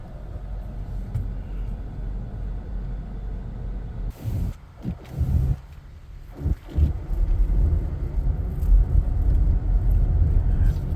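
A Toyota Camry drives on a road, its engine and tires giving a steady low rumble that briefly dips and surges as it moves, then settles into a continuous road noise.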